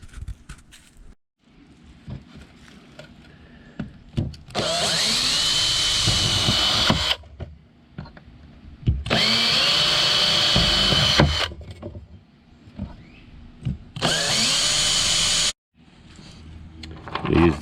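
A power drill bores spaced holes in a scrap aluminum sheet, running in three long, loud, whining bursts, each several seconds, separated by quieter pauses with light handling clatter.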